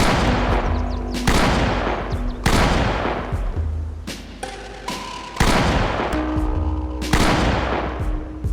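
Gunshots fired into the air in the zombie survival game Project Zomboid, loud sharp reports in irregular bursts, some single and some clustered, with brief gaps between volleys.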